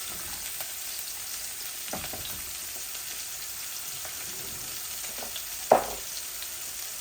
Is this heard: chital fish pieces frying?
yes